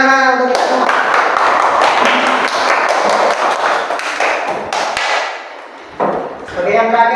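Children and a teacher in a school classroom clap together in a burst of quick, ragged claps lasting several seconds, with voices speaking just before and after.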